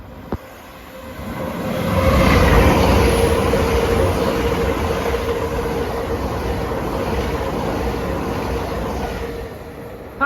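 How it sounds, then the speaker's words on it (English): Great Western Railway train formed of two units passing through Pencoed station without stopping: the rumble builds over a couple of seconds, peaks loudly nearby, then holds a steady rolling roar with a sustained whine. "Passing through there was 800-013 and 800-010 on a Great Western Railway service from London Paddington to Carmarthen"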